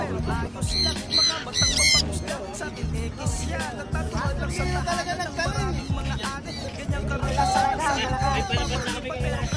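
Bird squawks ring out amid busy background noise and chatter, with loud harsh calls and people talking over a steady low rumble.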